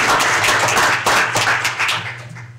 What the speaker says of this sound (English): I think a round of applause would be in order for Pete.